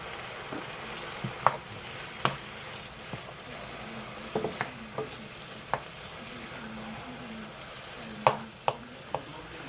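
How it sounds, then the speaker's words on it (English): Butter melting in a pot heating on the stove gives a soft, steady sizzle, broken by several sharp clicks and taps of utensils against the pot, with no talking. "we're going to start melting our butter"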